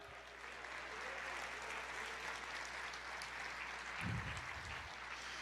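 A church congregation applauds in a steady, even wash of clapping from a sizeable crowd, heard at a distance and sustained throughout with a low hum beneath.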